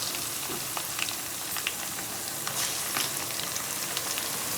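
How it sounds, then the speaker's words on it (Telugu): Ginger garlic paste fries in hot oil for a Nellore fish curry, giving a steady close sizzle with crackling pops and occasional stirring, with no voices over it. "మంచిగా కూడా వేగాలి అల్లం"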